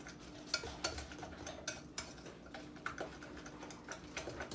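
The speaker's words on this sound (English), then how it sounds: "we're just gonna whisk this just until everything's nice and mixed together and moist" A whisk clatters steadily against a bowl while pumpkin cream cheese cake batter is mixed, light rapid ticking strokes close by with no talking.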